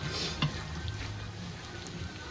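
Onions frying for plov, a quiet, steady sizzle with a single soft knock early on and no talk.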